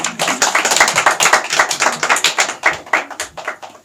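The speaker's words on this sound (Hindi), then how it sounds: "आप इनका स्वागत करिए जोरदार तालियों के साथ।" Loud, rhythmic clapping from an audience welcomes a speaker onto the stage at a program event. The hands beat close and steady for several seconds, nearly in unison, with no talking over them.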